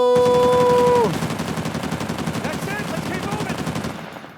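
A loud, dense burst of automatic Kalashnikov fire in the video game Uncharted 4, continuous and close. A tonal game sound shows over the first second, and then the rattling shots carry on and fade slightly.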